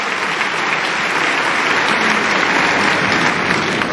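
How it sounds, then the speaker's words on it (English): A large crowd applauds a hard-won point on Court 1 at Wimbledon during a women's singles tennis match, with a steady, dense roar of clapping filling the whole stretch. "A point hard earned by Hsieh Su-wei deserves all the applause of the Court 1 crowd."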